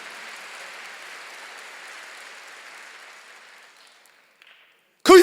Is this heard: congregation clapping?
yes